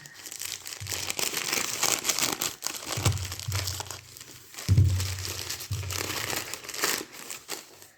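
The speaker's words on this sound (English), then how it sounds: "Let's open up our lovely present." Gift wrapping paper is torn and crumpled off a bottle of wine, a continuous close-up rustling and crinkling with sharper tearing bursts over several seconds.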